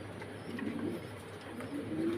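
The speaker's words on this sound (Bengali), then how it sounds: "নিউ অ্যাডাল কবুতর হোম বিট পায়ে ট্যাগ লাগানো আছে" Mundian pigeons, a new adult pair with leg tags, coo softly in a low, steady murmur with faint chirps, heard alone at a modest distance.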